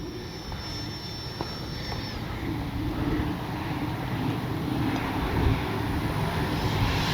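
A radio-controlled F4U Corsair model plane's small propeller engine drones steadily at a distance, its whine rising and falling faintly under wind and outdoor noise.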